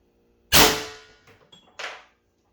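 A single sharp, loud shot from an HDR 68 airsoft gun running on HPA with a tuning barrel and no valve block or restrictor, with a short ringing tail and a second fainter mechanical clack just after.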